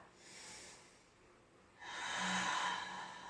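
Deep slow breathing during a tantric exercise, one soft airy breath followed after a pause by a longer, louder inhale through the nose, close and alone.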